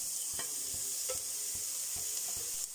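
Chopped green chilli sautés with onion in a pan, giving a quiet hiss of frying punctuated by a quick series of light scraping stirs.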